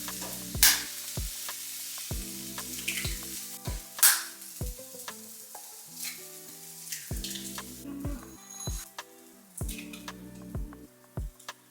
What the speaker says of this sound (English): So I'm mixing up 2 whole eggs and then about 3 or 4 egg whites